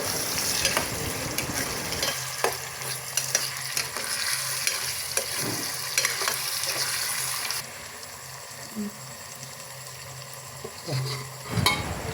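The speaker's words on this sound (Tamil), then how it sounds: "இப்போ தக்காளியும் நல்ல வெங்காயத்தோட நல்லா கலந்து கரைஞ்சி வர அளவுக்கு அதை வதக்குவோம்" Onion and tomato sautéing in a pan for kanava (squid) curry: a steady close sizzle with repeated scraping and clacking of a spoon as the mix is stirred, and no talking.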